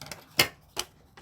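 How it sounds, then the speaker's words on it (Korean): Scissors snip through coloured paper in a few quiet, separate cuts, with short pauses between the close, crisp clicks. "이제는 가위를 이용해서 자를 건데요."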